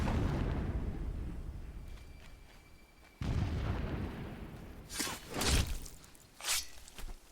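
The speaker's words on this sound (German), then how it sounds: "Lara Croft wäre neidisch auf den Schuss." A sudden heavy gunshot boom in the video game Horizon Zero Dawn cuts in and rumbles away, followed by a few sharper bursts and thumps, with no talking.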